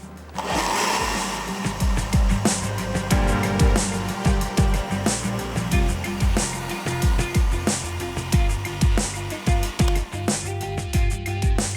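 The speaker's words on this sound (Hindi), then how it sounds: "इसको मैं एक दफ़ा और ब्लेंड करती हूँ" An electric blender whirs steadily while blending sweet lassi, loud and close, with a rapid rhythmic rattling of the jar throughout and no speech.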